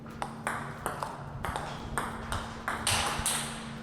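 Table tennis drive strokes with a black Glayzer rubber, the ball ticking off bat and table in a quick, regular rally of crisp pings, close and clear without talk.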